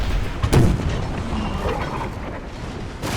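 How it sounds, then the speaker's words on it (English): A ship's cannon shot booms loudly near the start in a Napoleon Total War naval battle, followed by a rolling rumble of continued gunfire and battle noise. "Cannon shot."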